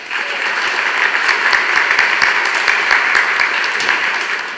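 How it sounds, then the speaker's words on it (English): Sustained audience applause at a Falling Walls Lab Slovakia 2017 science event, a dense, steady roar of many hands clapping for the speakers, loud and even throughout with no talking. "Please give a big round of applause to all of our 18 speakers."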